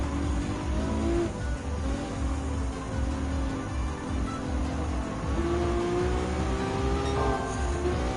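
Gran Turismo 7 race with a TPR Tuscan Speed 6 and Lamborghini Countach nearby: steady loud engine drone with shifting tonal whine, rising and falling revs through gear changes, continuous and close with no voices.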